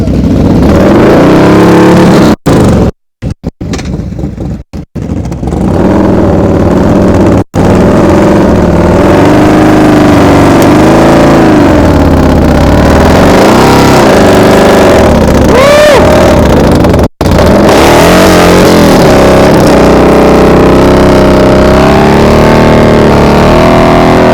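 A very loud motorcycle engine with exhaust baffles removed roars close by, held at fairly steady revs with brief dips and surges during slow-speed riding practice, no talking.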